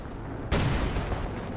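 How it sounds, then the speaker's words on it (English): A Panzer tank cannon fires once in Company of Heroes 2, a single sharp, loud report that strikes mid-moment over quiet battlefield ambience and then decays into a low rumble. "Oh, Panzer gets a super long shot."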